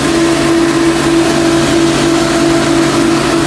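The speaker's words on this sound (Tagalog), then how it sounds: "Ayan, lakas ng 380 natin. Ito yung ating 380 na motor." A 380 motor driving a water filtration pump runs loudly and close, a steady droning hum with a constant tonal whine and no change in pitch, alone without talk for the whole stretch.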